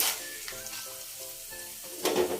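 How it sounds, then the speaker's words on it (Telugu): Sago pearls drop into hot oil and fry for a snack mixture, making a soft, continuous sizzle with faint crackles, plus a bright burst of spattering at the start and again near the end, close by and without talk. "ఆయిల్లో వేయంగానే కొంచెం అవి చిటపటలాడుతూ పొంగుతాయి"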